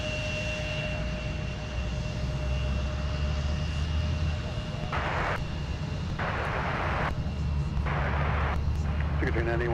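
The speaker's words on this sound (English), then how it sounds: "an Embraer E175 LR. Taxing on Whiskey." Embraer E175 LR regional jet taxiing at Minneapolis–Saint Paul airport, a steady loud engine whine and rumble with a high tonal hum, with bursts of radio chatter breaking in during the second half.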